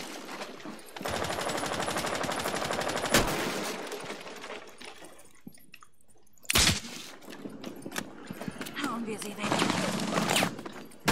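Rapid gunfire bursts in a shooter video game, repeated automatic volleys with sharp shot peaks, heard alongside a player talking throughout.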